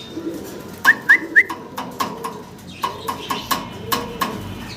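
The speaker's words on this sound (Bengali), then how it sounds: "দেখতে পারতেছেন অসাধারণ সুন্দর কবুতরগুলো" Iranian pigeons at a busy pigeon market, a series of short, fairly close coos and clipped calls repeating at uneven intervals over a low crowd murmur.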